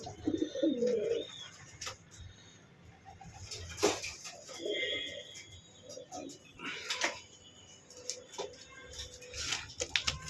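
Soft cooing from a male checker pigeon, a few low murmuring bursts spread over a quiet background with scattered chirps and small clicks nearby.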